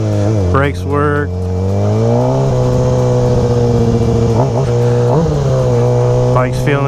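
A Kawasaki 636 motorcycle engine revs up for a wheelie, its loud, close drone climbing and holding at high pitch with a few quick throttle blips, while a voice talks over it.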